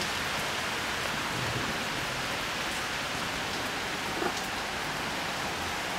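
Steady rain falls on thirsty plants, a dense, even hiss that continues without a break, close and fairly loud, with no voices.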